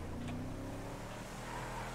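A car driving past in GTA5, a short engine hum with a rising and falling tone, faint and steady over two seconds.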